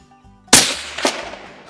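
A single sharp rifle shot cracks loud and close during a hunt, followed by a rolling echo and a second fainter report about half a second later.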